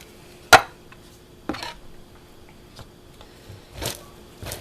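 Hash brown casserole being mixed with cream of mushroom soup in a dish: a sharp utensil clack, then several scattered scraping and knocking strokes against the bowl, close and alone.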